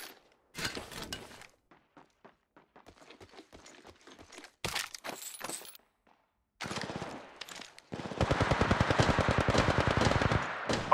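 Video game gunfire: bursts of sharp shots separated by pauses, then a sustained rapid automatic stream near the end, loud and close with no talking.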